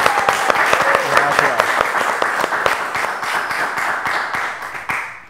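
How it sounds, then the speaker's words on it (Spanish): A television studio audience claps steadily as guests arrive on a vallenato music program, a dense run of close hand claps that thins out toward the end, with some talk mixed in. "Me lo reciben con un aplauso bien pero bien fuerte."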